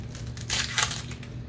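Papery skin being peeled off a shallot by hand in a cottage garden setting, a few soft close crinkles and rustles over a steady low background hum.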